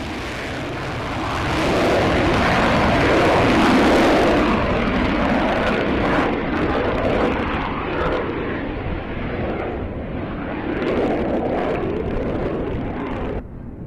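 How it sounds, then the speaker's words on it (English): A Rafale fighter jet flies past with a loud, sustained roar of jet engines, building up and then holding steady with a broad rushing noise. No one speaks. "the Defence Minister also took a sortie in the aircraft"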